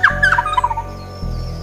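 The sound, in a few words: resplendent quetzal churr call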